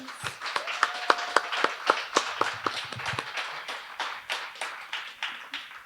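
Audience applause at a community-building session of a psychedelic symposium, scattered hand claps that thin out and fade over several seconds, heard from a short distance with no talking over them.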